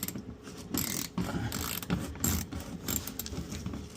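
A hand ratchet clicking in quick bursts while loosening bolts on the underbody cover of a Dodge Challenger SXT during an oil change, close and fairly quiet with no talking.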